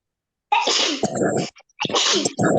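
Two loud, close sneezes follow one another after a short silence, each a sharp burst of breath with a brief pause between them.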